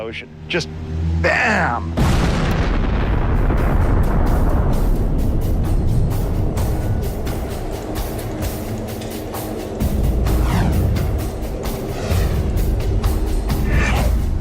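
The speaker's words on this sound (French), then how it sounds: "il se sera tellement évaporé que la matière restante disparaîtra dans une explosion colossale" A massive rumbling boom erupts and sustains as a dense, roaring low blast with crackling debris, swelling again toward the end.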